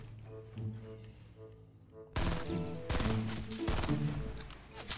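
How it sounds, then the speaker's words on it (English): Gunfire in the video game Fortnite breaks out midway, loud dense bursts of rapid shots following a calmer stretch of game sounds and music. "Shoot at John Wick once"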